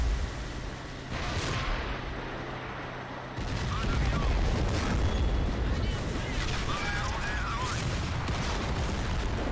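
Aerial bombs from a blue airplane carpet-bombing a frontline in the Men of War game blast in a dense, continuous roar of explosions and gunfire, swelling louder midway, with talk underneath.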